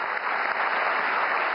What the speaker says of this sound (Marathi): पुन्हा एकदा जोरदार टाळ्यांचा गजर करूया